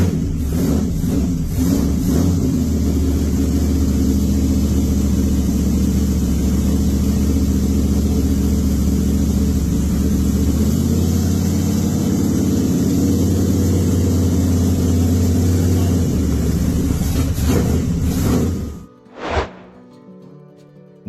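A loud pro street car engine, a 1950 Studebaker R54 pickup gasser, runs at a rough, steady idle with a few revs, then cuts off abruptly near the end.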